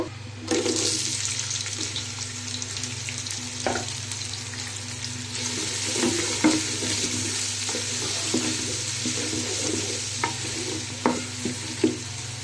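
Chopped onions frying in plenty of soybean oil in a pan for chicken roast, a steady bubbling sizzle with a low constant hum beneath and intermittent clinks and scrapes of stirring.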